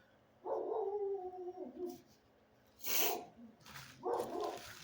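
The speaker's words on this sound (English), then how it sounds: "I can't believe my dog is going crazy like that." A dog whimpers and howls in a drawn-out, wavering cry, then gives a couple of shorter whining yelps after a brief pause. It is moderately close and fairly quiet, with no talk over it.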